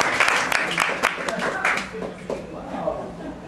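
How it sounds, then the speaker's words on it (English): Audience applause at a book talk held at an acupuncture and holistic health center, with a short burst of close clapping from a small group that fades as speech and light laughter take over. "So have a round of applause for Priscilla."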